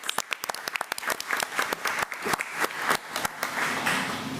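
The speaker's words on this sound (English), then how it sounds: "So let's give Nurse Hill another round of applause." An audience at a school committee meeting claps for a school nurse, with sharp, distinct hand claps at first, then a denser round of applause that holds steady, fairly close and loud.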